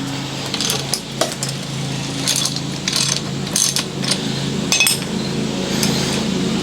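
Ratchet fitted with a 5/8 socket loosening the steering wheel nut on a Willys Jeep, giving a close, loud run of rapid metallic clicks with brief pauses and clinks, no talking.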